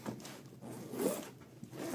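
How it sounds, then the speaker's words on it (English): A zipper on the cheap leather-and-vinyl case of an Olivetti Lettera 22 typewriter is pulled in a continuous rasping run lasting about two seconds, close and quiet, with no talk. "This one, the zippers work"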